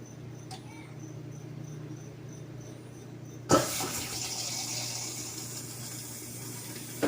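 A newly installed dishwasher on its first empty run starts filling with water: a quiet electrical hum, then a sudden rush of water that continues steadily, close and moderate.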